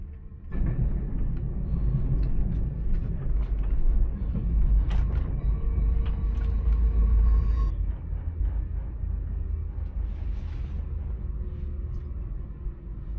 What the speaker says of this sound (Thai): รถไฟกำลังวิ่งผ่าน Pyramid Creek Falls